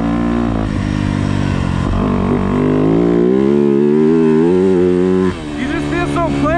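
Yamaha YZ250F dirt bike ridden on a motocross track, its engine loud and close, holding a steady high drone with rising revs and a brief drop near the end.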